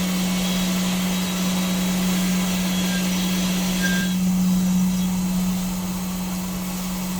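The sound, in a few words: CNC machine machining threaded holes in aluminum part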